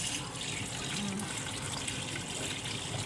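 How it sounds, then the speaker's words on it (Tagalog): Tap water runs steadily into a sink while lettuce is being washed, a constant close splashing hiss with no breaks. "Maglilinis tayo ng lettuce."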